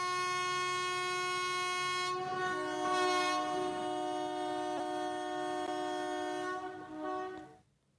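A train sounds its horn in a long, steady, loud blast that holds for several seconds, then fades out as it ends, with a faint rumble beneath.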